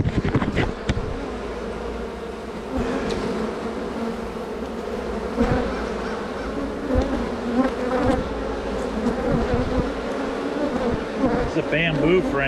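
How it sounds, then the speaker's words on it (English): Honeybees buzz steadily around an open hive with a bamboo frame, a dense close-up drone that keeps going throughout with small swells, occasional brief knocks and a faint voice. "You gotta talk to your bees, guys."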